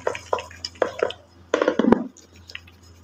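Cream being churned vigorously by hand in a vessel with warm water added to make homemade butter, giving rapid irregular sloshes, squishes and light clinks in quick bursts, close up.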